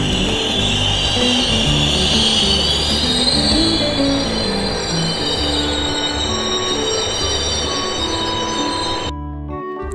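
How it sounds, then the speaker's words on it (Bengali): The Kirandul Express pulls into a station on the Jagdalpur to Visakhapatnam line, loud and close, with rolling wagons, rumbling wheels and high screeching wheel squeal that runs continuously before cutting off near the end. "আমাদের ট্রেন 9:55 হলেও ট্রেন কিন্তু এলো"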